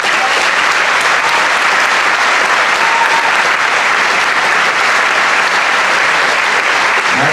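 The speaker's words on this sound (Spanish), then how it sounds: "Yo pido un gran aplauso para ellos." A concert audience gives a youth band orchestra loud, sustained applause, a thick, unbroken wall of clapping from a full hall that holds steady throughout.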